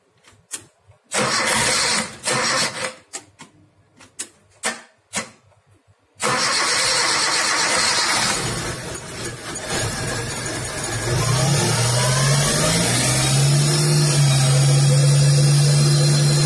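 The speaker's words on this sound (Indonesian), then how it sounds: "sekarang kita tes untuk menghidupkan mesinnya" A Suzuki Jimny engine cranks in several short bursts after a broken timing belt was replaced, then catches and runs loudly up close, settling into a steady idle with a rising whine.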